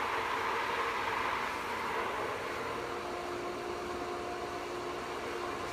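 A pool pump being primed, pulling trapped air through a skimmer pipe as a valve is eased open, runs with a steady, fairly loud motor whir and rushing hiss, unbroken throughout with a faint hum tone and no voices.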